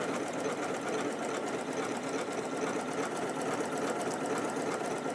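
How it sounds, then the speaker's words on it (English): An Elna 780+ sewing machine runs steadily while stitching a cushion cover, giving a continuous, fast mechanical whir and patter that stays close and even for the whole stretch, with no talking over it. "And then let's start to sew."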